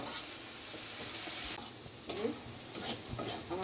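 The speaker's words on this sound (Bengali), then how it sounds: "এখন একটু ভালোভাবে কষানো হোক।" Spice paste being sautéed and stirred in a pan with a little water and salt for a fish curry, steady sizzling broken by repeated scraping strokes of a spoon, close and moderately loud.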